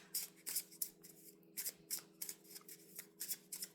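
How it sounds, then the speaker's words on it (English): Tarot cards being shuffled by hand in quick, crisp riffling bursts, a rhythmic run of soft papery flutters close by and fairly quiet over a faint steady hum. "as I'm shuffling these cards"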